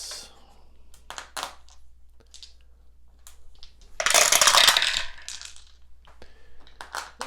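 Several dice tumble and rattle across a tabletop during a samurai battle board game, a short clattering burst in the middle of an otherwise quiet stretch, with faint soft sounds on either side.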